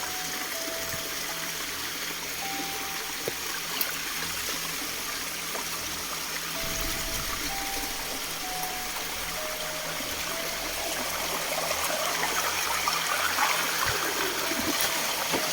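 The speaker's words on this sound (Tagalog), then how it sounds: "medyo maingay po ilog" Steady rushing water from a nearby river fills the scene, a continuous broadband hiss with no voices.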